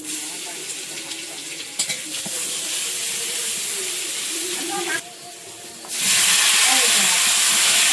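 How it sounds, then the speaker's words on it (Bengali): Whole cumin seeds and ginger fry in hot oil in a wok, making a steady close hiss and sizzle that dips briefly and then surges louder near the end. "এপাশে কড়াইয়ে একটুখানি গোটা জিরে তেলে দিলাম আর একটু আদা"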